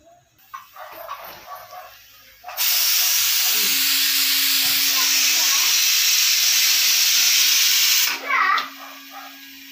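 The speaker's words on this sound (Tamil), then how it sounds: "விசில் வந்துருச்சு ஃப்ரெண்ட்ஸ்," A pressure cooker cooking rice lets out a loud, sustained hissing whistle of steam lasting several seconds, with quieter rustling before and after.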